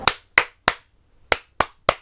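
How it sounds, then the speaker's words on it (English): Six sharp hand claps used as a sync marker, loud and close, spaced in two groups of three with short silences between them. "That's called a clap sync."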